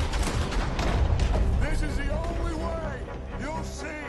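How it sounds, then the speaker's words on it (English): Gunfire in the video game Red Dead Redemption 2, several shots in quick succession amid game noise and music, with a person talking over the action. "That's it, you're getting multiple shots this time."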